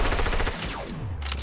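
Rapid rifle fire in Fortnite 50 vs 50 gameplay, a loud close burst of repeated shots cracking in quick succession with no talking.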